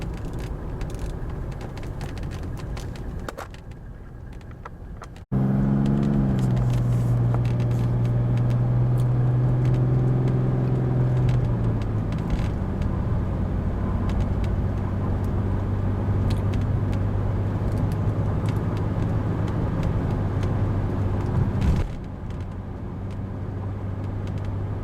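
A 1987 Mercedes-Benz SDL car driving toward a dealer's lot, with a steady low engine drone and road rumble that swells after a brief dip, holding loud and continuous before fading slightly near the end.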